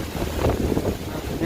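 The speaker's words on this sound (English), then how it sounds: "Here we go, it's a good gust here." Strong wind gust from Hurricane Isaias sweeping through a residential neighborhood, a brief loud rushing roar buffeting the microphone outdoors.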